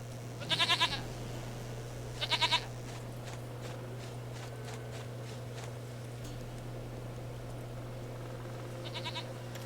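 Goat bleats from the video game Witcher 3: two short, loud quavering bleats close together near the start and a fainter one at the end, over a steady low hum and soft ambient game noise.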